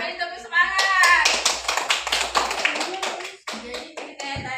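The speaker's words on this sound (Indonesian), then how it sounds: "Beri tepuk semangat." A group in a classroom gives a burst of applause after a student team's presentation, dense overlapping clapping that swells and tapers with lively voices and cheers mixed in.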